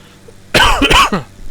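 A single harsh, close cough lasting about half a second, with a rasping throat-clearing quality, followed by a faint trailing breath.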